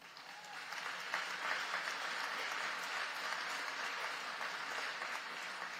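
An audience at a Texas public school event applauds steadily for about six seconds, a dense, even wash of clapping from many hands with no voices over it.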